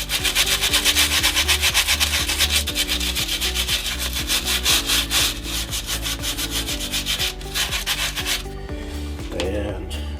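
Vigorous back-and-forth scrubbing of a stiff wire brush on wood, fast and rhythmic, loud and close, easing off near the end.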